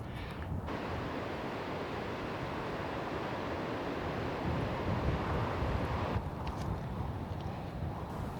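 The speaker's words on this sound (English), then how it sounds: "Having it be really windy while you're on said bridge." Strong, steady wind roars and buffets without a break on a bridge high over a canyon at Box Canyon Falls, Colorado, a broad rushing noise that gusts slightly louder midway, with no voices.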